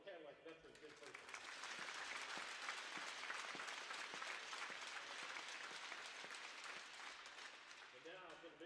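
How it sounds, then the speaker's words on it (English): A crowd at a high school event applauds veterans steadily and fairly loudly, dense clapping sustained throughout with a faint voice murmuring at the start. "One more round of applause for the Cadillac veterans in person"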